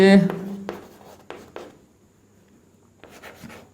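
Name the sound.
writing on a board during a physics lecture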